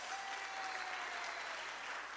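Steady, dense applause from a church congregation welcoming a guest pastor at a birthday celebration, a continuous wash of many hands clapping heard from a distance and sustained throughout.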